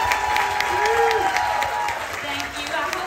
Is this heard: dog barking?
no